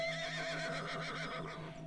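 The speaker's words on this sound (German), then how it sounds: "Das Pferd streckt seinen Kopf zu Jackie herunter" A horse gives a clear, close whinny lasting nearly two seconds, with soft hoof clops beneath it, quiet overall and free of speech.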